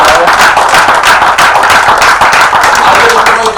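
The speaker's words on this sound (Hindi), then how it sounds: "तो एक बार तालियां बजा।" Audience applause at a Hindi kavi sammelan poetry recital in Rohini, a dense steady wash of many hands clapping throughout, loud and continuous.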